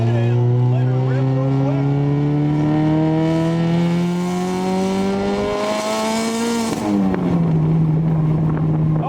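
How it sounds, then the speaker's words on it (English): A turbocharged car fitted with a boost controller accelerates hard in second gear; the engine note climbs steadily and loudly for several seconds, then drops sharply at a shift and carries on. "we're in second gear, no one's in front of us. Let's go ahead and let her rip"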